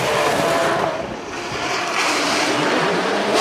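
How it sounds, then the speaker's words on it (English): NASCAR V8 engine revving at a drift event at Ebisu Circuit West Course in Fukushima, a broad loud continuous roar that dips briefly and swells again, heard alone. "now you hear that NASCAR V8 revving"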